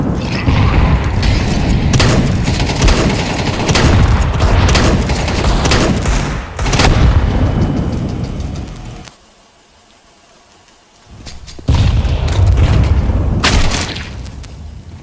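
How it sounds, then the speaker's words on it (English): Grenade blasts and gunfire from a Counter-Strike style tactical shooter, loud booming bursts filling most of the stretch, a brief quieter gap near the middle, then another heavy burst of explosive noise. "I'm throwing a grenade."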